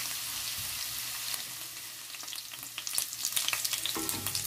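Garlic for chicken-feet sinigang fries toward golden brown in a pan with a steady, close hiss. Stirring scrapes grow busier toward the end, with no speech.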